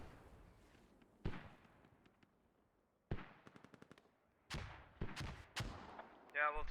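Mortar fire in a multiplayer military shooter lands as scattered loud blasts and crackling bursts separated by short quiet gaps, with rapid gunfire mixed in and a fast rattling burst at the end.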